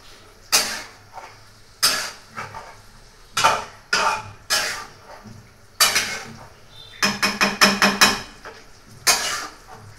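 Chicken kosha stir-fried in a metal pan, a spatula striking and scraping the pan in loud, close, irregular knocks, with a quick burst of rapid clatters near the end and no voices.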